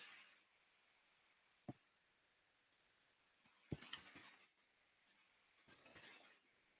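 Computer keyboard keys being typed in a quiet room, heard as a few isolated sharp clicks followed by a short, faint burst of rapid taps and a later softer run of keystrokes.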